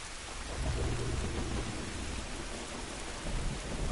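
Heavy rain and rumbling thunder in the video game The Last of Us, a dense continuous downpour with low thunder rolls underneath, steady throughout.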